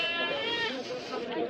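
Goats at a busy livestock market in Pathardi bleat in wavering, nasal cries close by, with people talking over them.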